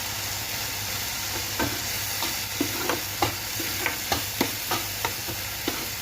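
Bitter melon (karela) being stirred in a hot pan with salt and turmeric: a steady low sizzle with a run of sharp spoon scrapes and knocks, about two per second, close by.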